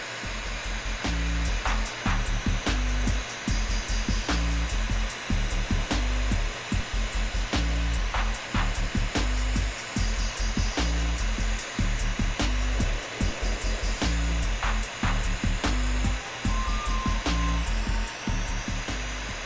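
Heat gun reheating a thin cold weld, a constant loud blowing roar broken by short regular dips and clicks, close up and without talk.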